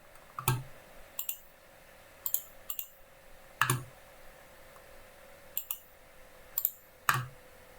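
Computer mouse clicking, a dozen or so sharp, close clicks, some single and some in quick pairs, spread irregularly over a quiet background.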